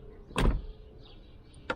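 On a 1993 Mercedes 500SEL, a soft-close door pump acts with a short, firm mechanical thump and whir, then a second, briefer click a moment later, alone in a quiet space.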